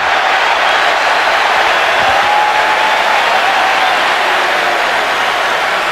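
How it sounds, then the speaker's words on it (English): A large stadium crowd at an NFL game between the Arizona Cardinals and San Diego Chargers roars in a dense, continuous wash of cheering and applause, loud and sustained throughout. "this crowd now is starting to get into the game a little bit"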